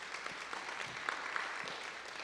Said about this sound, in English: let's just give a round of applause to our panelists